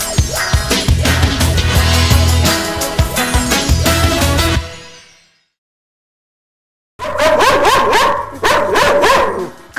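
A dog at an animal shelter barks in a quick run of loud, close, clipped barks after a stretch of music and a short silence.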